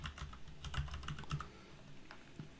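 Typing on a computer keyboard, a quick run of close clicky keystrokes in a short burst that trails off into a few scattered taps.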